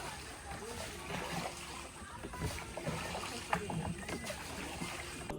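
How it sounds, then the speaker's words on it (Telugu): A boat glides through mangrove forest water with soft sloshing and splashing under a continuous low engine or hull rumble. A person talks throughout over the water sounds. "బోటు తీసుకొని లోపలికి వచ్చాను"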